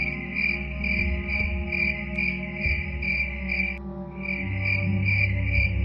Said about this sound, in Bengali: বাঁশ গাছের পেছন দিক থেকে একটানা ঝিঝি ডেকে যাচ্ছে